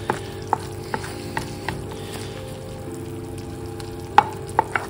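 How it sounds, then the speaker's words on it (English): Sticky ham glaze spooned up from the bottom of a hot pan, a steady frying sizzle broken by several sharp clinks of the spoon against the metal. "we're just going to keep spooning over the really sticky stuff in the bottom of the pan"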